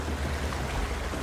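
Waterfall in the video game ULTRAKILL, a dense, steady rushing wash of falling water that holds at an even, fairly loud level throughout.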